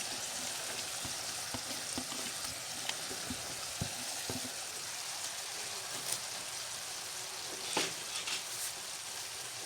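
Capsicum, tomato and cabbage sizzle and fry steadily in a hot pan for Chinese rice, a dense crackling hiss with occasional sharper pops and stirring clicks, close and continuous with no talking.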